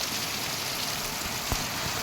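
Rain comes down hard in a continuous close wash of hiss, with a single brief knock near the end and no talking.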